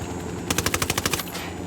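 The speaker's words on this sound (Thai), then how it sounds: "Fucking Apache's about to fire." Apache attack helicopter gunfire in the video game Ghost Recon Wildlands: a rapid burst of about ten sharp cannon shots lasting under a second, loud and close, over a steady background engine rumble.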